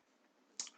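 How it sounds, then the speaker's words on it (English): A single crisp computer mouse click lands at the end, close and brief, after a short stretch of faint background hiss. "now I'm going to click Analyze"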